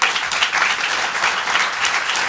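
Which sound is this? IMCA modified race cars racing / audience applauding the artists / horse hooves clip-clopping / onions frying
audience applauding the artists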